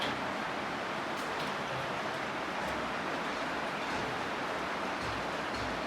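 Water sprinkled over a tin roof on a pig shed like artificial rain, a steady dense hiss of pattering drops that holds evenly throughout with no talk.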